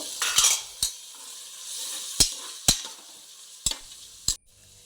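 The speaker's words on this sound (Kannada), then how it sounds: "ಈರುಳ್ಳಿ ಫ್ರೈ ಆದಮೇಲೆ ತರಕಾರಿ ಬೀನ್ಸ್ ಕ್ಯಾರೆಟ್ ಬಟಾಣಿ ಇಷ್ಟನ್ನು ಹಾಕಿ ಸ್ವಲ್ಪ ಫ್ರೈ ಮಾಡಬೇಕು" Beans, carrot and peas fry with onion in a pan, a steady sizzle punctuated by about six sharp spoon knocks against the pan before it falls quiet, with no talking.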